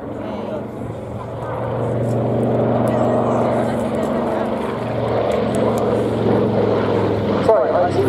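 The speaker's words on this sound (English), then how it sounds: "As you see there, what great maneuverability this aeroplane has." Twin-engine inverted gull wing propeller aeroplane maneuvering at an air show, its steady droning engine hum sustained throughout with a low harmonic rumble and slight swells, under continuous commentary.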